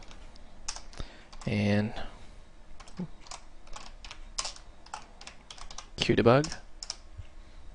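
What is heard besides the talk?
typing code on a computer keyboard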